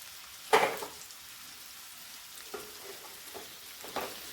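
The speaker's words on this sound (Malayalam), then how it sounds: "ഈ സമയത്ത് നമുക്ക് ഉരുളക്കിഴങ്ങ് കട്ട് ചെയ്ത് വെച്ചിരിക്കുന്നത് ഇട്ട് കൊടുക്കാം." Cut potatoes tipped into a pan of softened frying onions: a sudden loud sizzling burst, then quieter steady frying with a few soft stirring scrapes.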